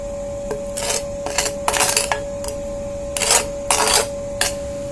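Hard burnt crust is scraped in a frying pan, with several loud, rasping strokes in short bursts and pauses between them, close and alone, over a steady electrical hum.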